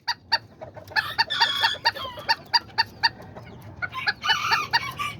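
Kikiriki and Azteca chickens and roosters on a backyard flock make repeated close clucks, with a rooster crowing in bursts around the middle and near the end, all fairly loud and with no talking.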